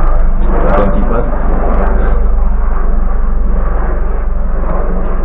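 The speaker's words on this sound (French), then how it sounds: "Désolé pour le bruit, c'est un hélicoptère." A helicopter passes overhead, its loud, heavy rumble filling the whole stretch and drowning out most of someone speaking close by.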